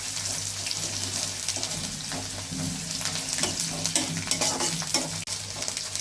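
A ground paste of ginger, garlic and cumin fries in a pan with a close, steady sizzle, punctuated by repeated stirring scrapes and clicks, and no voices.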